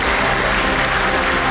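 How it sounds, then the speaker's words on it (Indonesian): Applause from the audience at a national strategy plenary session, a steady, dense wash of clapping over a low rumble of the hall, with no speech on top. "kita berikan tepuk tangan untuk Kak Ria"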